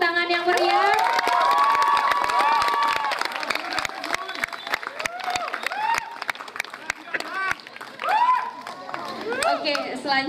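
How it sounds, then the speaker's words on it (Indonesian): An audience after a theatre performance cheers and shouts with bursts of clapping, excited voices, including high-pitched ones, dominating over sharp scattered claps that thin out and then swell again near the end. "Sekali lagi beri tepuk tangan yang meriah."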